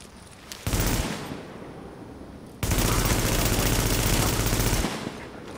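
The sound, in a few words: gunfire in the video game The Division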